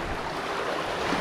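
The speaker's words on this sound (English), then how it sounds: "Finally going in the ocean" Ocean surf at a Philippine beach resort washes in as a broad, steady rush of water noise with wind, close and continuous with no voices.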